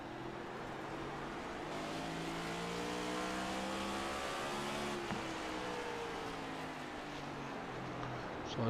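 Onboard engine of the number 8 Cup Series race car exiting turn 4 at Martinsville, a faint, steady drone with rising and falling harmonic whine and no clear gear shifts, plus a brief bump midway.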